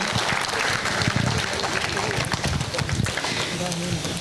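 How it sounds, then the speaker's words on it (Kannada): Audience applause for skit performers at a workplace stage event, sustained clapping from a crowd, fairly loud and steady, with a voice speaking over part of it. "ಇದರೊಟ್ಟಿಗೆ ಜೋರಾಗಿ ಬರಲಿ ನಮ್ಮ ಕಲಾವಿದರಿಗೆ ನಿಮ್ಮೆಲ್ಲರ ಚಪ್ಪಾಳೆಯ ಝೇಂಕಾರ"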